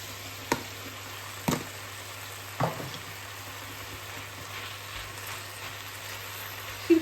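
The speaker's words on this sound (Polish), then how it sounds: "Wrzucam szpinak." Spinach sizzles steadily in a hot pan for a home-cooked meal, a constant close frying hiss broken by a few soft knocks of a utensil against the pan, with no talking.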